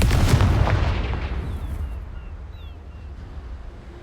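A Confringo blasting spell goes off in a video game as a loud, deep boom with a crackling burst, then a long rumbling tail that slowly dies away.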